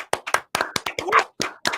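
Hand clapping for a man who just finished radiation treatment and rang the bell at a cancer center: about eight sharp, close claps in an uneven rhythm, each sounding alone with no talk between them.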